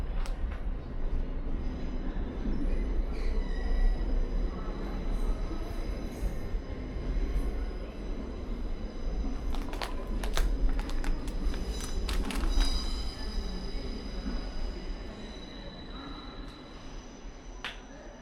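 An LNER Azuma train pulling into platform 2 rumbles steadily throughout, with a cluster of sharp metallic clicks and clanks from the wheels and rails midway and a faint high squeal, easing slightly toward the end.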